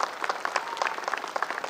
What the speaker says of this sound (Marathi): हे याच्यात एका टाळ्या वाजवल्या पाहिजे